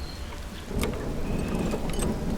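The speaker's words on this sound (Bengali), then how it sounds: "টিপটিপে বৃষ্টি গরুর গাড়ির ছইয়ের উপর এসে পড়ছে।" Light rain patters steadily on the covered roof of a bullock cart, a soft, continuous wash of drops that grows slightly denser partway through, with no one speaking.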